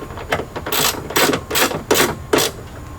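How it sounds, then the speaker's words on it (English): Plastic trim screws being tightened in the headliner of a 2015 Kia Optima, with a series of short, sharp ratcheting bursts close by. "Let's tighten these screws."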